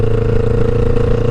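Deep, throaty exhaust burble from a 2009 Kawasaki Ninja 500 EX500 motorcycle on deceleration, loud and close, a steady rumbling drone with no voices.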